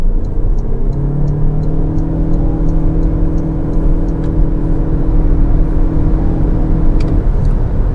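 A Toyota RAV4 hybrid accelerating on a highway, heard from inside the cabin as a steady engine and road rumble with a rising tonal whine that climbs and holds for several seconds, loud and continuous with no talking.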